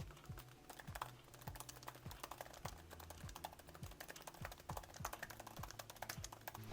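Steady typing on a Logitech Folio Touch keyboard case for iPad, with soft, quick key taps running continuously and fairly quietly at close range. No one speaks.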